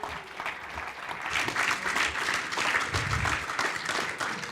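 An audience at a Garage48 hackathon finals event claps as a prize presenter is welcomed onto the stage, giving a dense, steady round of applause that swells slightly midway.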